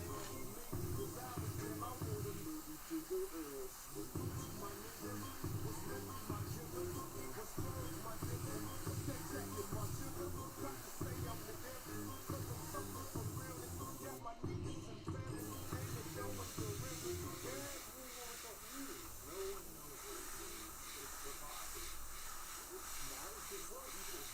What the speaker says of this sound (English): going to do a little bit of green overspray around the eyes to make the eyes look like they're glowing